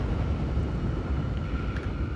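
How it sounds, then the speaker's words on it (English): Engine of a Kruger Stingray spaceship in Star Citizen, a loud, steady low rumble with a faint hum above it that runs evenly throughout with no talking. "The engine noises are a bit loud"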